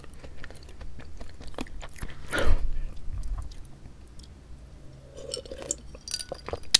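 Crunchy, plain, not-sweet green tea cookie being bitten and chewed close to the mouth, a soft crunch around the midpoint followed by quieter chewing, with faint clinks in the background and no talk.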